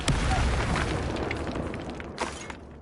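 Incendio fire spell cast during Hogwarts Legacy combat, a booming burst of flame with a sharp onset that rumbles and slowly decays, followed by a couple of faint crackling hits.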